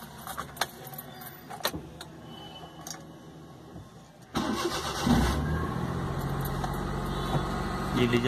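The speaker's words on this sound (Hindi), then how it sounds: "अब मैं आपको गाड़ी स्टार्ट करके दिखाता हूँ।" A Maruti 800 is started after a new 4-pin starter relay is fitted: keys jangle with a few light clicks, then at about four seconds the engine cranks and catches into a steady, close, fairly loud idle.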